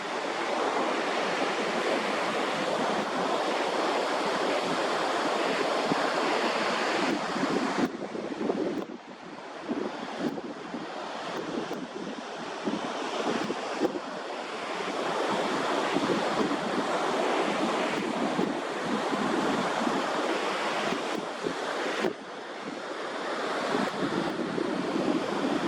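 Ocean surf rolls steadily beneath Cherry Grove Fishing Pier in North Myrtle Beach, South Carolina, a continuous loud wash of breaking waves with heavy wind buffeting the microphone throughout.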